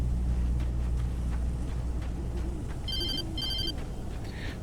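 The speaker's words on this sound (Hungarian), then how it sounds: "Csörög a telefon, felkapom." Telephone ringing inside the Alan Wake Remastered game, two short bursts of a trilling electronic bell heard over a steady low rumbling ambience, with brief voiced sounds earlier.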